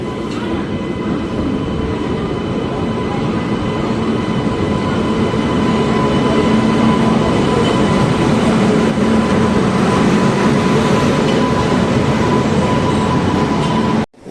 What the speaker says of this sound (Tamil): நம்ம train 16232 Mysore junction Cuddalore board express பார்த்தீங்கன்னா பிளாட்ஃபார்மில் வந்துட்டுருக்கு